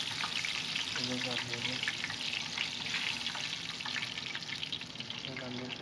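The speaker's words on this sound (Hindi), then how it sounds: "इस तरह से हम सारे फिश जो है फ्राई कर लेंगे" Restaurant-style fish frying in oil: a dense, steady sizzle and crackle that stays loud and close throughout, with a voice speaking briefly over it.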